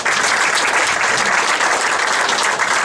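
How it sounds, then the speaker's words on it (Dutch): Warm, steady applause from a small audience at a magic show in a bar, continuous and close, with no talking over it. "Geef je meneer hartelijk applaus"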